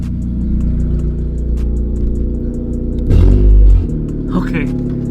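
Tenth-generation Honda Civic Si fitted with a GReddy DD-R exhaust, idling with a steady low rumble and then giving a short, loud rev blip before settling back, recorded close up while people talk nearby.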